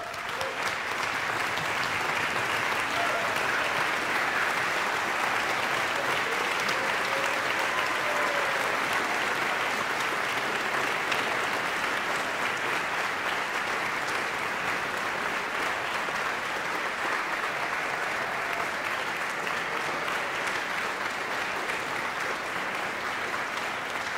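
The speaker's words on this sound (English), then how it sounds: "I now ask all those students, both on stage and in the hall, to stand at their places so that we may applaud them for their accomplishments." A hall full of people at the Peabody Conservatory commencement in May 2016 applauds the graduating students with loud, continuous clapping. The clapping holds evenly for over twenty seconds with no voices above it.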